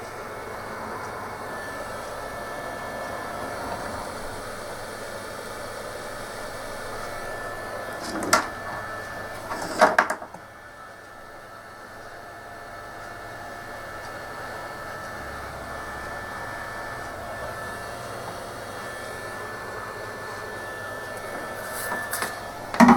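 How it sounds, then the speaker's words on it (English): A heat gun shrinks heat shrink tubing during a Philips CM8833 monitor repair. It gives a steady, close blowing hiss that runs throughout, with a few brief knocks and clicks near the middle and at the end. "I'll just melt the heat shrink, or shrink the heat shrink."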